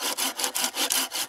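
A Bahco Laplander 396-LAP folding saw cuts through wood in about six steady back-and-forth strokes, each a bright rasping pass. The sawing is close, loud and alone, with no talk.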